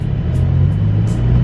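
A Volkswagen City Golf engine idles up close, a loud steady low rumble that holds without change through the short moment.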